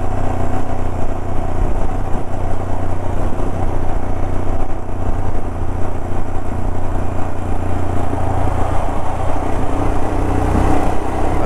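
A motorcycle engine-braking in second gear down a steep off-road hill trail at Mandalpatti, a steady loud low drone running unbroken throughout with no voices.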